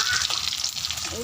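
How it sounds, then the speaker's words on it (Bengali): Small fish sizzle in hot oil in a pan, a steady bright crackling hiss with faint spatters, close and uninterrupted over a brief moment. "মাছগুলো ভাজা হয়ে গেছে"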